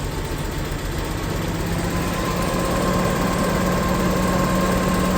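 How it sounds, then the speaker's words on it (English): A 1983 Datsun 280ZX Turbo idles cold with a misfire, a steady low rumble with uneven pulsing and shaking, joined by a constant loud fan drone, heard close with no talking. "As you can see, it's having a misfire, right?"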